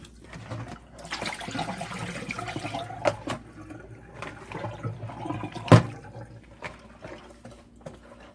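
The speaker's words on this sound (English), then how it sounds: "I'm gonna rinse it just a little because we don't want a lot of vinegar scent on it." Tap water runs and splashes over raw chicken being rinsed in a kitchen, an uneven, moderately quiet gushing with a few sharper clatters and splashes, and no one speaking.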